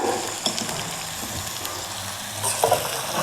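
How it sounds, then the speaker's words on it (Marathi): Vegetables frying with soy sauce and salt in oil for chopsuey, a steady crackling sizzle close by, with a few light stirring scrapes and clinks. "ह्या भाज्यांमध्ये सगळं हे फ्राय होऊ द्यायचं"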